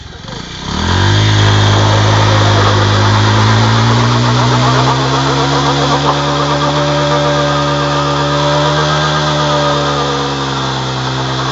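An engine used for ploughing a farm fires up after a second and then runs loud and steady with a rough, droning tone, while people speak over it.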